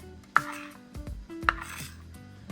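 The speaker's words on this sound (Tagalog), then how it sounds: "So, haluin lang natin siya." A spoon stirs ube-flavoured cheese mixture in a bowl for puto, making a few sharp clinks against the bowl with soft scraping between them. The sound is close and there is no talk.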